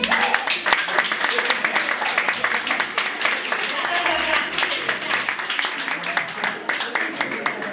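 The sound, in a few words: audience applause at a beauty pageant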